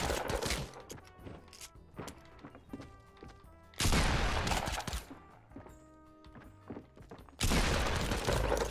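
Loud double barrel shotgun blasts from Fortnite gameplay strike twice with sharp broadband booms, separated by quieter stretches of lighter in-game clatter and smaller pops.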